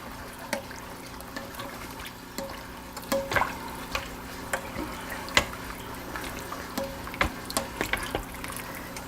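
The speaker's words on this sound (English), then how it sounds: "We're going to add the potatoes to our liquid mixture here. Give them a good mix here." Diced potatoes being stirred into a liquid mixture for Zuppa Toscana in an Instant Pot, giving soft sloshing and wet trickling with scattered clinks of the spoon against the pot, fairly quiet with no talking.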